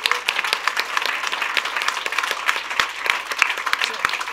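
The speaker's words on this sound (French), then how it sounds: "on peut l'applaudir bien fort" Steady applause from an audience at an inclusion challenge ceremony, dense clapping with scattered individual claps standing out, continuous and moderately loud across the whole stretch.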